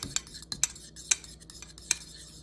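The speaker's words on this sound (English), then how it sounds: "Mix it together. And add it to your roux." Utensil stirring a roux mixed with egg yolks, ground mustard, pepper and salt in a pan, giving quiet, sparse clinks and scrapes that come irregularly, several over a couple of seconds.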